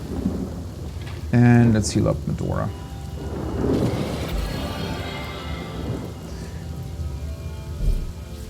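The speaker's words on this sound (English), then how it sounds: "And now I'm just going to cast Rain to get rid of the fire." A summoned Rain spell in the video game Divinity: Original Sin, cast to put out fire, brings a rumbling thunderstorm with steady rainfall, while someone talks briefly over the start.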